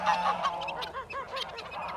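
Geese honk close by in a farmyard, giving a quick series of nasal calls that overlap one another without any talk.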